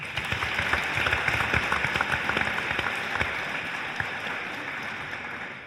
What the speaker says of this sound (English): Let's give a round of applause for Zara.